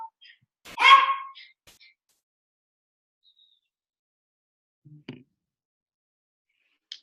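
A pet dog barks indoors at a delivery arrival: one loud close bark burst near the start, then a couple of faint short yips and whimpers amid long quiet.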